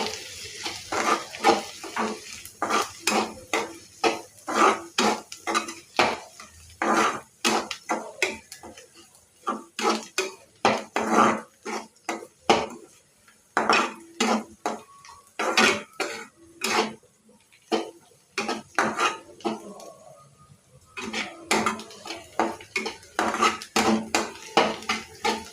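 A metal spoon stirs turmeric and chili powder in a steel vessel or pan, scraping and clinking in quick bursts with short pauses, close and fairly loud.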